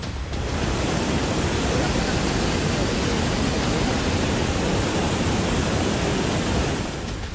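Fierce sea waves whipped up by cyclone Ditwah in Sri Lanka make a dense, unbroken roar of surf and wind, loud and steady throughout.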